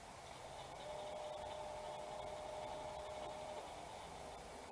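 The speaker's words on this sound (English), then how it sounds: "Let's see what happens when we spin only the second motor." The second motor, MG2, of a Lexus GS450h hybrid transmission spins alone, producing a faint, steady electric whine over a soft whooshing noise for several seconds with no speech.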